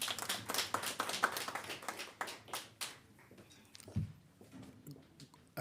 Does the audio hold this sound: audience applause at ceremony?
yes